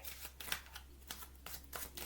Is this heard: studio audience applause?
no